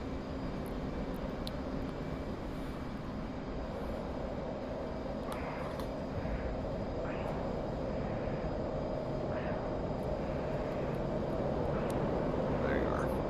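Jet aircraft engine roar in the DCS World flight simulator during Blue Angels solo practice, a steady loud drone filling the whole stretch, with faint whistling tones drifting in over it.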